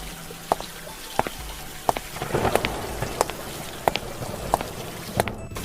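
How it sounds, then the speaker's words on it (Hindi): Steady rain patters down with scattered louder drips landing close by, a continuous wet hiss throughout with no voices. "अरे मोहन भैया, कहाँ बारिश में भीगते हुए जा रहे हो?"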